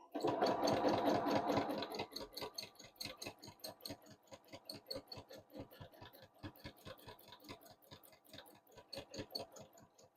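A sewing machine does free motion quilting: a fast, loud run of rapid stitching at first, then slower bursts of rhythmic needle clatter that speed up and ease off unevenly.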